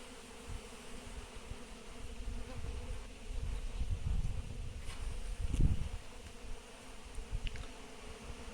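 Cavity-nesting honeybees being moved into a hive box fly around, a continuous close buzzing hum with swelling passes and some faint rustling.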